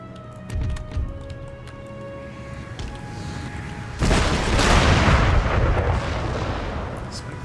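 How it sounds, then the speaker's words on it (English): Howitzer artillery fire in Empire: Total War during a battle against Marines, heavy booming shots followed by a loud sustained rumbling blast, with scattered crackling gunfire. "Howitzers aim for the Marines. Bouncing artillery, man."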